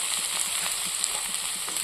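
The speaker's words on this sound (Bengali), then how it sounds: "পালং শাকটাকে একটু ভেজে নেব।" Fresh spinach goes into a pan of already-frying vegetables and gives a soft, steady sizzle with light crackles throughout, fairly quiet and with no voices.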